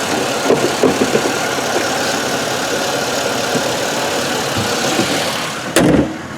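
A 2004 Pontiac Grand Am GT engine idles steadily at close range, then cuts off abruptly near the end with a brief clunk.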